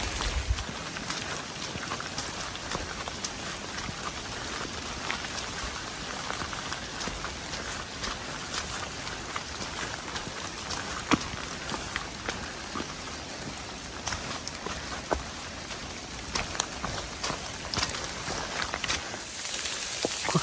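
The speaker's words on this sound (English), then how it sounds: "got a bunch of little rice-sized grains of sleet coming down out of the sky" Rain mixed with rice-sized sleet grains falls steadily on an Appalachian Trail hike, a dense continuous patter and hiss with scattered sharper ticks of pellets striking gear and ground nearby, lasting throughout with no voices.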